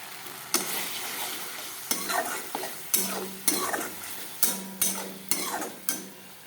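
Spice masala for a Bengali boal fish curry is stir-fried with a splash of water, and a spoon scrapes the pan in repeated strokes over a steady close sizzle, with no voices.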